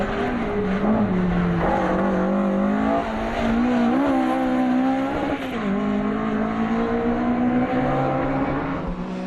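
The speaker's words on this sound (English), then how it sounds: "the new engine in their car running well now" A loud Citroën C2 rally car engine screaming at high revs on a special stage, pitch climbing and dipping through gear changes, close and continuous without speech.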